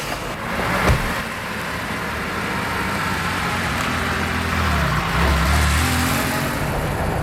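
A car engine runs loud and close throughout, rising and falling as it is revved, with a steady rumble and no talking over it.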